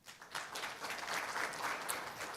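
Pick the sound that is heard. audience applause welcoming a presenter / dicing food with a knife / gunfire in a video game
audience applause welcoming a presenter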